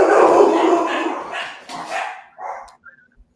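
A dog barks loudly and repeatedly up close, a dense run of barks tapering into a few softer yips and whimpers.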